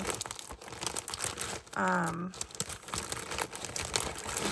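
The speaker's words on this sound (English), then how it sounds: "Sorry about all the crinkling." Plastic packaging crinkles around a folded piece of printed farmhouse canvas fabric, close and rustling in bursts throughout, with someone talking over part of it.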